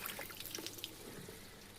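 Water drips and trickles faintly from an old household tap that keeps leaking after being closed, a soft steady patter with small splashes and no talk.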